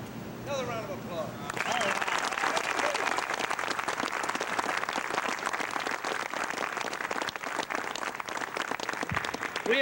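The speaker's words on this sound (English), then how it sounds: "Another round of applause." A round of applause for an honoree at a martial arts gathering, a brief voice at first, then a crowd bursts into sustained dense clapping that stays loud and even to the end.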